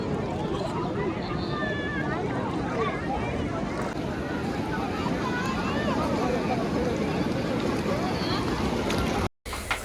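Boat moving on the sea at Haji Ali, Mumbai, with a steady wash of engine, water and wind noise running throughout, close and continuous, with faint voices underneath.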